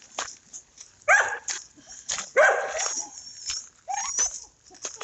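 Several farm dogs bark in short, sharp bursts at calving time, near and loud, with quieter yips and a whimper between volleys and a little faint background noise.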